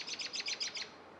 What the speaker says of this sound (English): And the birds are out there too.